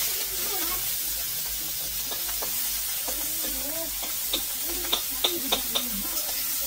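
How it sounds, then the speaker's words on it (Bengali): Mussels frying in a pan for a Bengali curry, a soft steady sizzle and hiss with scattered light clicks of a spatula stirring, moderately quiet. "তারপর ঝিনুকগুলো চড়ে দিই ভাজার জন্য"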